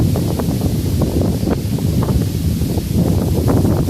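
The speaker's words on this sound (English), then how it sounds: "I'm just waiting for the wind to simmer down a little" Gusty wind buffets a microphone outdoors with a dense, rumbling low roar that stays loud and steady throughout, with faint rustling underneath and no voices.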